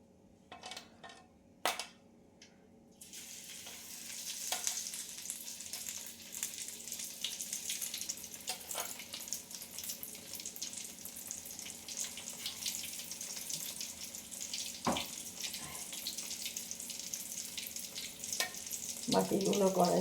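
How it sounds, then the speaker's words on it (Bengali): Prawns fry in butter in a kadai, a steady close sizzle running throughout with a few sharp clinks and scrapes of a utensil near the start and end. "বাকি ফ্রাইগুলো ভাজা হচ্ছে"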